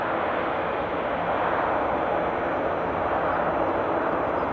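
An Aer Lingus A320 airliner, likely on the Dublin route, passes at Edinburgh airport as a steady, broad jet engine roar that holds at an even loudness throughout, with no voices.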